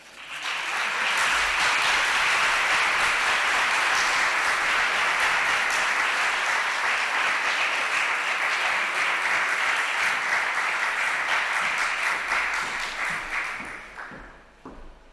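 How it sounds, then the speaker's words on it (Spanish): A large audience greets a guest speaker at a federation event with loud, sustained applause: dense, steady clapping that fills the room for about thirteen seconds, then tapers off sharply at the end. "vamos a recibir a Janaína con un fuerte aplauso."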